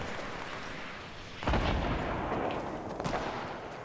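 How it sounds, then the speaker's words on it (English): Dual wield pistols firing in Fortnite, a loud burst of gunfire starting partway through with a second sharp report near the end, over a steady game background. "Let's give these dual wield pistols a go against this guy"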